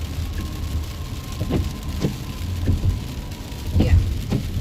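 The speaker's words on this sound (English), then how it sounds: "If it ever stops raining, maybe we can walk down there." Rain falls steadily outdoors ahead of a hurricane, a dense hiss with sharp patters and splashes from drops hitting surfaces nearby.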